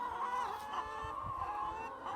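A flock of chickens on cattle pasture, around a mobile coop, clucks softly in a steady murmur, a low, busy flock sound at moderate distance with no talking.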